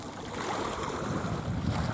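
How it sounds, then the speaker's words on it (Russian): Sea waves washing onto a warm beach, a steady broad wash of surf with gentle swells in loudness, no voices, fairly close and continuous. "Так приятно шумит волна."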